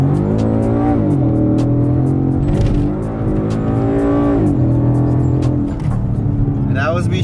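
A 2017 Ford Mustang GT fitted with the Stage 2 Performance Power Pack accelerates hard and loud, its engine climbing to 7,000 RPM. Each gear shift gives a brief dip in the roar before the pitch climbs again.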